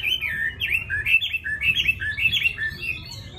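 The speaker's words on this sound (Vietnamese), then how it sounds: "con chim họ Mi đang nuôi mùa thay lông tại nhà" A hwamei songbird kept at home during its moult sings a continuous run of bright, warbling chirps and whistled phrases, loud and close, with no talk.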